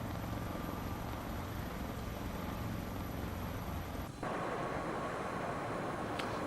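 A helicopter in Microsoft Flight Simulator 2024 flies over the Mt Fuji area, its steady broadband rotor and turbine roar continuous and loud. A high whine cuts out partway through, and there is no talking.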